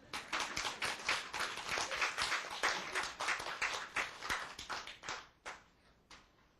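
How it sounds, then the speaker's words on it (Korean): Small audience clapping together in a quick, fairly steady rhythm, close and moderately loud, thinning out and stopping toward the end, with no talking. "왜 박수를 좀 안 쳐?"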